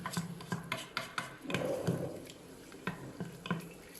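A spoon stirs mutton varuval in a pot with a splash of water, making repeated wet scrapes and light clinks against the metal in an uneven rhythm, close and moderately quiet.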